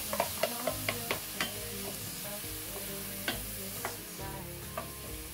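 Onion and garlic fry in a pan under a soft steady sizzle, while a spoon knocks and scrapes against the pan in quick regular taps at first, then in sparser strokes. The sound is close and moderately quiet.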